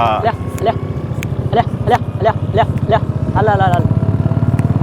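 A motorcycle rides along a road with its engine running steadily and close by throughout. Short voice or horn-like calls break over the engine now and then.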